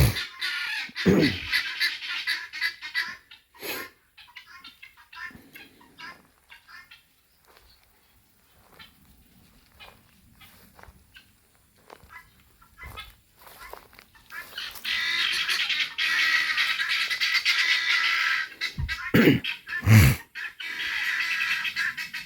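Guinea fowl calling on a farm, a flock of harsh, rapid cackling cries, sparse and intermittent at first, then building into a loud, dense chorus over the final stretch with a few sharp bursts.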